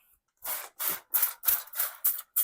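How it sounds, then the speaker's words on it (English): Hydrogen peroxide sprayed from a spray bottle onto a plant, six or seven short hissing bursts in a quick, even rhythm, close and clear with nothing else behind them. "I'm gonna spray it with hydrogen peroxide."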